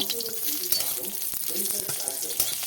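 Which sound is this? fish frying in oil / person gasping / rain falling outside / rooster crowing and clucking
fish frying in oil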